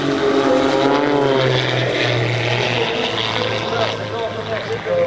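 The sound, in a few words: propeller aerobatic airplane engine at an airshow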